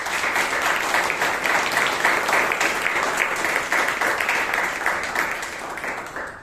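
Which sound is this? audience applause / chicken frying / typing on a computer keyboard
audience applause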